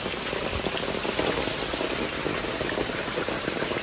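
Heavy rain pours steadily onto a surface in Albania, a dense, continuous hiss and patter with no pauses, close and loud throughout.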